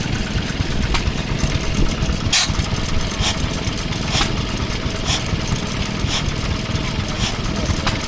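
A Ruston Hornsby stationary engine runs at a country show in Sussex, a steady low chugging drone with regular sharp knocks, nearby and continuous, with crowd noise around it.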